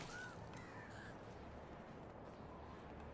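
A crow caws a few times in the video game Medieval Dynasty, harsh calls heard fairly faintly over a constant wash of outdoor ambient noise, with no talk.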